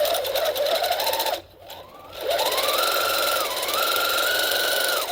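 A home sewing machine stitches darts on a single-piece back bodice, a steady whirring run that stops briefly, then resumes in longer even bursts close to the listener, with no talk.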